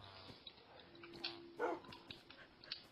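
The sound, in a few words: dog barking in a video game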